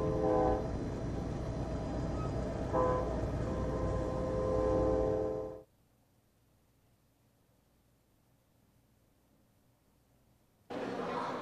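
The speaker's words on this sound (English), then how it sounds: "enjoy the quiet, accented with train whistles." Train whistle sounding near Paso Robles: a loud, sustained, harmonic blast for about five seconds, then abrupt silence before it resumes at the very end.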